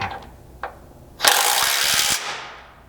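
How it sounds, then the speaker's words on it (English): A hand ratchet tightens a bolt on a Ford Bronco rear lower control arm skid plate. A few light clicks come first, then a loud, close, steady burst of rapid ratcheting that trails off. "you can go ahead and tighten this one up"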